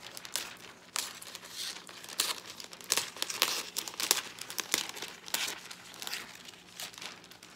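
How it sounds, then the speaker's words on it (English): Cellophane wrap pulled from a roll is cut and crinkled for a gift basket, producing close, irregular bursts of crackling and rustling with brief pauses between. "So I've got my finger where I'd like to cut it on the roll."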